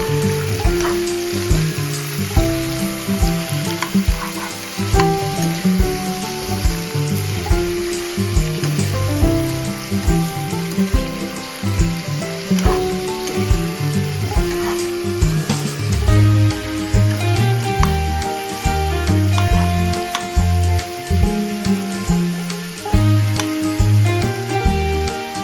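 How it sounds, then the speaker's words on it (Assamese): Meat frying in a wok with onion and chilli, a steady dense sizzle running the whole time with occasional stirring scrapes, close and fairly loud, no talking. "মই এতিয়া মাংসখিনি অলপ ভালদৰে ভাজি ল'ম"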